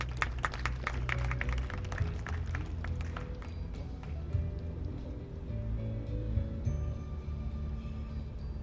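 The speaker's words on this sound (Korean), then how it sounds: "여러분들의 뜨거운 박수로" Scattered audience applause welcomes a poet at a memorial ceremony for Daegu Prison. Sharp claps are clustered in the first few seconds and then thin out over a steady low hum in a hall.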